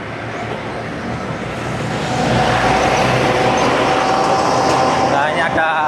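Motorcycle engine and road noise while riding, recorded on a small clip-on wireless mic, a steady loud broadband roar with wind that swells after a couple of seconds and stays dense and close throughout.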